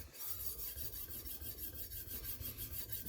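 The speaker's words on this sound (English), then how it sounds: "So that's why you'll see me sharpening in an up and diagonal manner." A knife blade is drawn across the stone of a portable sharpening system in quick, regular rasping strokes, steady and close with no talking.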